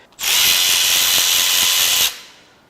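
An impact or power tool runs in one loud, continuous burst of about two seconds and then stops abruptly, backing out a bolt during the teardown of a neglected BMW S85 V10 engine.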